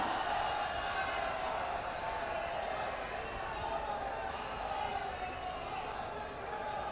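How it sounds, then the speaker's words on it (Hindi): A huge crowd at a PM Modi event in Kashi applauds loudly, a dense, continuous roar of clapping and cheering voices that fills the space without a break. "जोरदार तालियां।"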